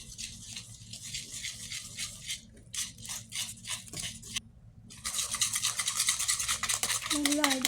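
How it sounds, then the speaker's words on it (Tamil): Milk and yogurt whisked into a chicken marinade in a bowl, a fast rhythmic clattering and stirring that pauses briefly, then resumes more strongly, heard up close. "நல்லா அடித்து மிக்ஸ் பண்ணிடலாம்."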